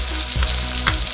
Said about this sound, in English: fry for a little bit till about golden brown, and then you can go ahead and add the onions